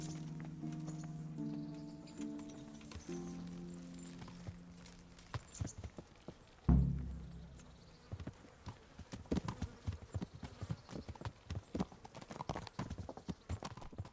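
Horse hooves clip-clop in Kingdom Come: Deliverance, starting after sustained musical tones and a heavy thud, then a quick irregular rhythm of hoofbeats that grows steadier and louder toward the end.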